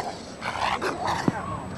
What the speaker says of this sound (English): Guarding the base against unwanted intruders is the job of the British troops and their specially trained attack dogs.